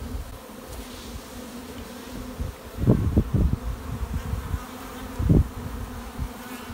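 Honeybees buzz steadily around brood frames holding open brood and pollen while mating nucs are set up, a close, continuous hum with a few louder swells as bees pass near.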